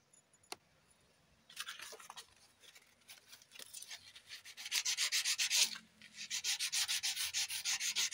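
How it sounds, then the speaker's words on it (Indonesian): Sandpaper rubbing a Honda Supra X 125 clutch part smooth, starting after a faint click with steady rhythmic back-and-forth strokes that grow louder and faster near the end. "Oke, ini akan kita amplas biar agak halus."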